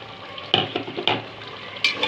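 Peas and green chillies tossed into hot oil for mutton rice, with several distinct stirring scrapes and bursts of sizzle at uneven intervals over a low, steady frying hiss.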